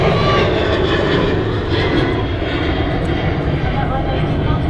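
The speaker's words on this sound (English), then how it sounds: "Ryanair 737 just departing there." Ryanair Boeing 737 jet departing Manchester Airport, a loud, steady engine roar held throughout without fading, with no voices.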